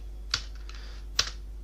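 Two separate sharp clicks of number keys being typed on a computer keyboard, close and crisp against a low steady hum.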